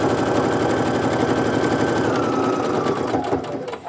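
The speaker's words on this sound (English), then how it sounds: "sew our 1/4 inch seam" A sewing machine runs a quarter-inch quilt seam with rapid, steady stitching, loud and close, easing off near the end.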